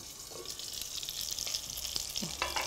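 Sausages frying in a pan for rougail saucisses, a steady close sizzle with soft crackles and a couple of brief stirring or utensil sounds, no voices.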